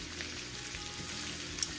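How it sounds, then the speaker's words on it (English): Sliced Rosanna's peppers sautéing lightly in olive oil in a pan, giving a soft, steady sizzle with a faint crackle throughout, close by and without talk. "Do a light saute of those."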